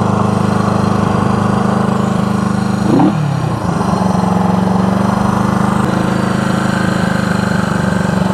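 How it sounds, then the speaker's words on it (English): Small engine idling steadily with a loud, even drone that dips briefly and shifts pitch midway as the idle is turned down, then settles again. "We'll turn the idle down a little bit."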